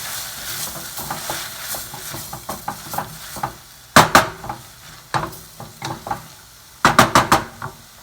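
Half a lime's worth of juice hits a hot pan of vegetables for a spicy veggie soup, giving a soft sizzle with scattered scrapes and sharp metallic clanks of a utensil against the pan, heard close with no talking.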